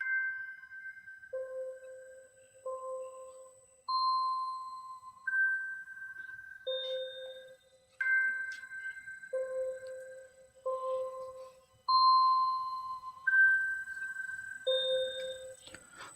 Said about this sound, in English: just for additional texture and sound effects, this was also on the Op6 as well